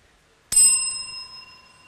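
A bicycle bell is struck once with a sharp metallic ding and rings on in a clear, slowly fading tone.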